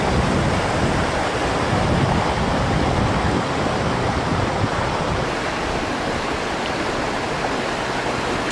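Rough water rushes down a natural rock water slide at Indian Rock in Salina, Kansas, producing a loud, continuous roar with no breaks and no voices.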